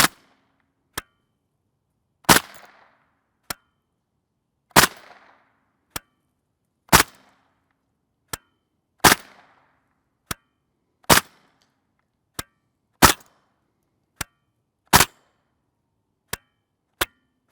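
Suppressed gunshots from 5.7x28mm and .22LR firearms, mixing supersonic and subsonic rounds, fire as a string of sharp cracks and thumps at irregular intervals about a second apart, some louder with a short tail, with no talk.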